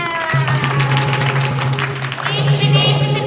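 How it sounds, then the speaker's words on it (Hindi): Theatre audience applauding during a stage play, steady hand clapping with a low sustained tone running beneath it, close and fairly loud throughout. "तालियां।"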